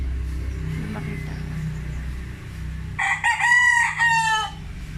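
A chocolate-brown rooster crows once, a loud drawn-out cock-a-doodle-doo close by, over a constant low rumble of engine and traffic noise in the background.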